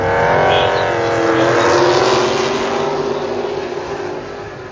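Steel body hot rod race cars roar around the oval at Sauble Speedway, a loud dense engine wail swelling and fading as the pack passes, with no talk over it.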